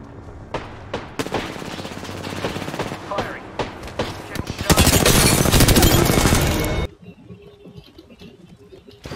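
Gunfire in the video game Apex Legends: scattered close shots build into a long, loud sustained burst of rapid automatic fire that stops abruptly, followed by quieter ambient sound and faint voices.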